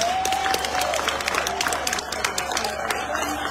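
Applause rises from an audience at a Bobi Wine speech in Boston, steady and moderately loud, with crowd noise and a voice speaking over the clapping throughout.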